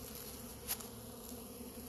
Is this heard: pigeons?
no